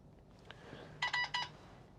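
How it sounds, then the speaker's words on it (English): A short electronic beep sequence of a few quick tones from the infotainment system of a 2018 Skoda Fabia using Apple CarPlay, clear and close, in an otherwise quiet car interior. "the system beeped."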